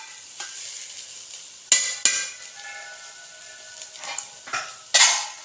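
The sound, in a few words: stirring mussel biryani in a pot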